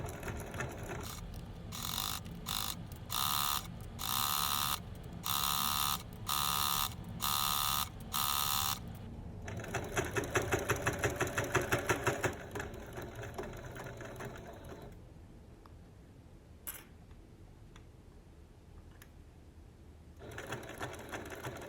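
A sewing machine stitches quilt binding in bursts: rapid mechanical whirring runs in short spurts, then a longer continuous stretch, followed by quieter pauses and a brief restart near the end, close and clear.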